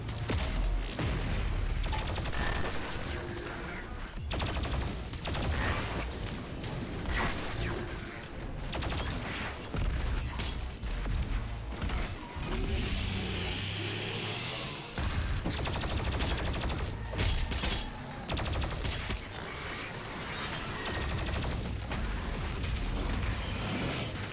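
Rapid gunfire and weapon blasts from the demon-slaying shooter game Doom Eternal, loud and dense over a steady layer of game music, with mechanical clanks and crashes scattered through the stretch.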